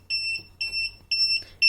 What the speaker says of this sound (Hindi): जैसे ही हम इमरजेंसी स्विच को प्रेस करेंगे तो बजर बजने लगेगा